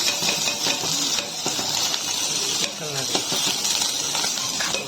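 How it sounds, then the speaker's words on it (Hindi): An egg sizzles and crackles in hot oil in a kadhai, a steady frying hiss that runs throughout with small pops and scraping, while someone talks over it. "तो मैं अभी तेल डाल देता हूँ अंडा ला फ्राई करेगा।"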